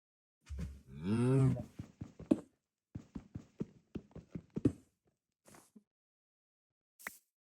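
A cow moos in the video game Minecraft with one drawn-out, tonal low call, followed by a run of short, soft clicking steps and a few faint blips near the end.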